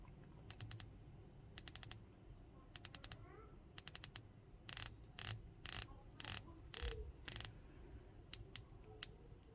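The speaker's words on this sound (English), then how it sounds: "Let's play around with the bezel." The rotating bezel of a Tudor Black Bay 54 wristwatch gives crisp, faint clicks in quick clusters of three or four, then slower single clicks, close up and alone against a quiet room.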